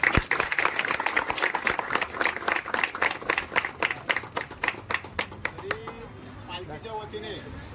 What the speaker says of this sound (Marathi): त्यांचा जोरदार टाळ्या वाजून सन्मान